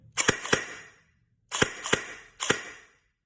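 Six sharp, snappy shots from a G&G ARP9 airsoft gun, fired in three quick pairs with short pauses between, loud and close with no voices.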